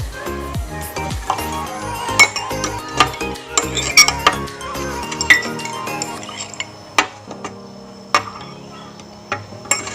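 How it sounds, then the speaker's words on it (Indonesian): A spoon clinks repeatedly against a glass while stirring lime juice into a milk solution, the sharp chimes arriving in an irregular rhythm with soft swishing between them. "Kemudian aduk hingga terjadi perubahan"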